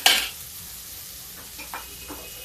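Onion cooking in a steel kadhai over lowered gas: a loud initial sizzle hiss that quickly settles into a soft steady frying crackle, with a few light stirring scrapes and clinks.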